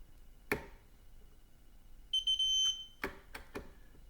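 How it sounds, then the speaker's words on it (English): A soft thunk, then a short series of high electronic beeps from a digital torque wrench tightening a scout scope mount, with a few quiet clicks afterward. "Getting closer to our torque by the beeps"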